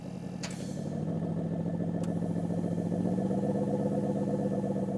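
A 2024 Porsche Cayenne S V8 drones steadily up close with a deep, even engine note whose pitch rises slightly partway through, holding at a constant loudness with no talk.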